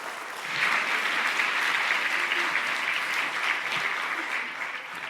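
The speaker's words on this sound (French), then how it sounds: "Je pense qu'on peut toutes et tous les applaudir." A dense, steady wave of applause fills the hall at a political rally in Mulhouse, sustained and even for several seconds with no voices on top.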